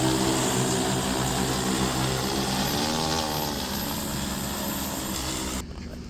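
An agricultural drone spraying pesticide over a farm field gives a steady, loud propeller drone that holds evenly throughout and cuts off near the end, with no speech.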